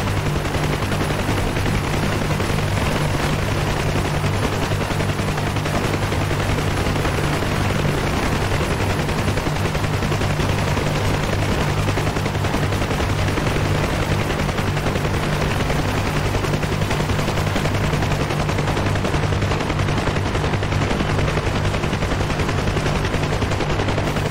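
A Huey gunship in DCS flies at low speed with steady rotor drone and dense bursts of machine-gun fire, loud and continuous, with no talk.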